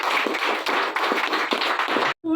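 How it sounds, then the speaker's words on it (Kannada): Audience applause at a one-day training session in a hotel in Chikodi, a loud, close burst of many hands clapping in quick uneven beats that stops abruptly, followed by a brief sound. "ಅವ್ರು ನಿಮ್ಮೆಲ್ಲರ ಕಡೆಯಿಂದ ಜೋರಾದ ಚಪ್ಪಾಳೆ"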